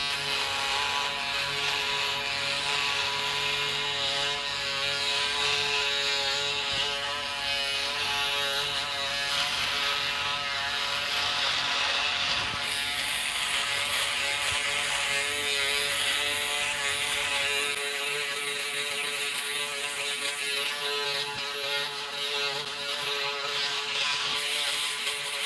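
A Braun Series 5 electric shaver running along the jaw, a loud, steady mechanical buzz with a rasping texture that holds continuously and shifts slightly in tone as it moves over stubble.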